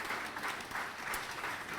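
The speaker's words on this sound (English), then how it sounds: "Kincardine kid, Quentin Page, round of applause." Audience applause fills a community achievement awards evening in Kincardine, a steady, dense wash of many hands clapping at once, continuous and even in loudness throughout.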